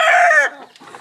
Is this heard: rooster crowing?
yes